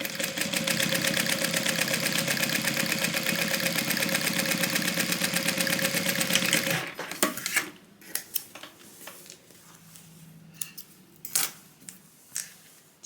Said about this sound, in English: we're going to sew this down with a 1/4 inch seam allowance